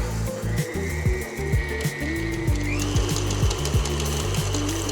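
An electric mixer beats pastel circle sprinkles into sugar cookie bar dough, a loud close motor whir with shifting pitch and rhythmic thumping as the beaters churn, running continuously without talk.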